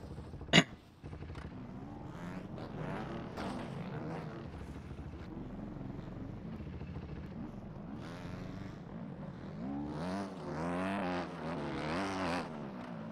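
A 250-class dirt bike engine in a motocross video game revs and shifts as the bike rides around the course, with a sharp pop early on and rising, falling engine whine throughout, fairly faint.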